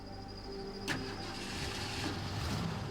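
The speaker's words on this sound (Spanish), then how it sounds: "El auto fue encendido sin ningún problema." A car engine is started: a sudden crank and catch, then a steady running rumble close by.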